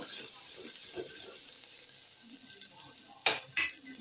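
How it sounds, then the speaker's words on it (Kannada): Mustard seeds and onion sizzling in oil for a tempering for a broad bean greens sambar in a home kitchen: a faint, steady hiss, broken near the end by two sharp louder clatters. "ಈಗ ಈರುಳ್ಳಿ ಹಾಕಿದ್ದೀನಿ ಒಗ್ಗರಣೆ ಚೆನ್ನಾಗೆ"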